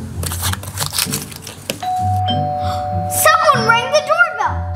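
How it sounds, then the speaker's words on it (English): A two-tone doorbell chime rings out clearly after some background chatter and a voice, the tones sustained and fairly close. "Someone rang the doorbell."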